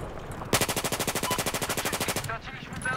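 A sniper rifle in Battlefield 4 multiplayer fires a rapid, evenly spaced burst of about twenty loud shots lasting under two seconds, followed by a softer rattling tail and faint background noise.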